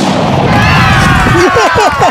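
A percussion-cap muzzleloader fires at bowling pins, giving one loud, sharp report that booms in the open air before it fades, with a voice speaking over it.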